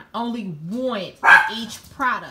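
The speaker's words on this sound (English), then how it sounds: "That was my dog was looking outside." A dog indoors near an open door, barking at something outside in a few short, close yips and woofs, mixed in with a person talking.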